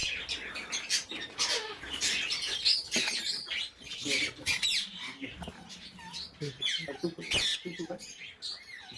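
Ringneck parakeets in a Savar aviary give a busy jumble of close, shrill squawks and chirps, overlapping and irregular throughout.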